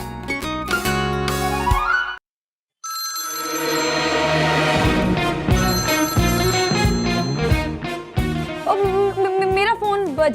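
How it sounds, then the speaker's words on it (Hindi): A phone ringtone plays a repeating melodic tune, loud and close, with a brief silent gap, then continues under overlapping voices. "मेरा फोन बज रहा है, लगता है वो मुझे कॉल कर रही है।"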